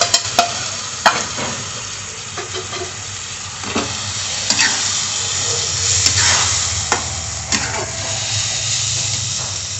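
Spices with ground peas and chickpeas stirred in a hot pan, a continuous sizzle and hiss with repeated scraping strokes and occasional clicks of the spoon against the pan.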